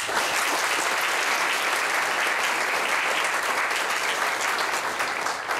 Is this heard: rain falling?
no